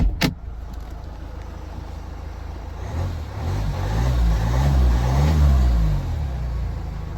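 A 2014 Hyundai Santa Fe AWD engine drones while driving, its pitch climbing and rising in volume midway as it accelerates, then easing slightly near the end.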